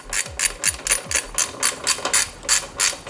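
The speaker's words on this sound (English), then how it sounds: "So I'm gonna swap out for a ratchet." A hand ratchet works on a bolt of a Yamaha R6 motorcycle, giving a loud, close series of about a dozen sharp metallic clicks in a steady rhythm, heard alone.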